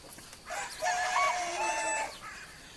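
A hen in a grassy pen gives one drawn-out, wavering call lasting over a second, close and clear against a quiet background.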